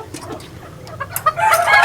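Fancy hens and a rooster at a poultry setup cluck in a busy mix of short calls, growing louder and more layered toward the end, with no talking over them.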